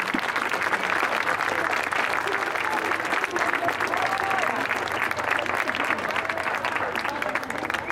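Audience applause at a show jumping prize ceremony, dense continuous clapping from a crowd lasting throughout, with a voice faintly over it.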